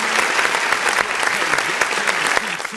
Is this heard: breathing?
no